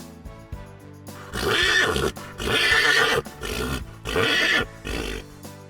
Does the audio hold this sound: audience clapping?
no